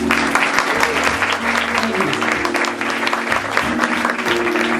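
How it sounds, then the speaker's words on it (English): An audience gives a sustained round of applause, dense and even throughout, with faint voices and a low musical tone underneath. "Can we give her a round of applause, please?"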